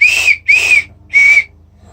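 Three short, shrill blasts come from a plastic survival kit whistle, the first two in quick succession and the third after a brief pause, loud and close.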